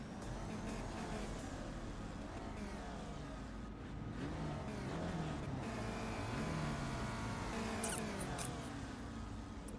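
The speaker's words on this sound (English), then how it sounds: "this room full of rookies are all revving the piss out of their engines" Race car engines in iRacing revving on the starting grid, several motors blipping and wailing together in a dense overlapping roar, with faint clicks near the end and no talk.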